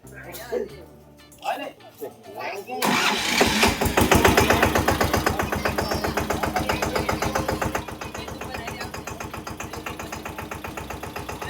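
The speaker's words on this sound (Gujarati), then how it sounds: "ઓપનિંગ થઈ ગયું છે અને ટ્રેક્ટર દોરવાની શરૂઆત થઈ છે" After some talk, a new Massey Ferguson diesel tractor engine starts and chugs with a steady rapid knocking rhythm, running close by while people speak.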